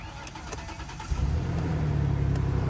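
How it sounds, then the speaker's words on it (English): A Ford Explorer engine cranks and catches about a second in, settling into a steady, loud low rumble close by. "Well, she started up."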